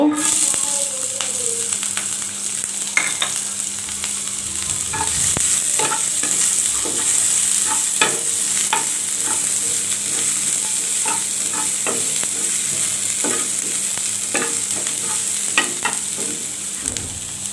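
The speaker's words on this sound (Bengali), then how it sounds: "কাঁচামরিচগুলো হালকা করে টেলে নিব" Green chilies and onion lightly frying in a pan for garlic bhorta, a steady loud sizzle with frequent clicks and scrapes of stirring throughout, no voices.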